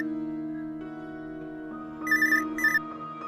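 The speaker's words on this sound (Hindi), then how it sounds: "कुदसिया के ससुराल से फोन आ रहा है" A telephone rings in short electronic bursts, two bright repeated trills near the end over a sustained tonal background, moderately quiet with no talking.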